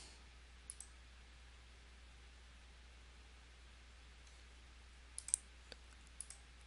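A computer mouse clicking faintly through a software setup interview, a few sparse, sharp clicks in pairs and small clusters over a quiet hiss.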